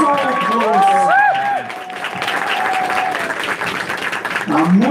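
Spectators at a martial arts competition cheer and applaud loudly, with rapid clapping and raised voices. The noise dips briefly midway, then swells again toward the end, and a commentator's voice may sit beneath it.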